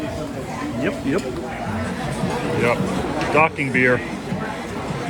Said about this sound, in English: There's a good crowd over here at the pool.